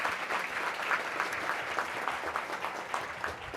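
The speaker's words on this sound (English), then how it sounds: "let's give our 4 presenters another round of applause" Steady applause from an audience, a continuous patter of many hands clapping at even volume for a few seconds, with no talking.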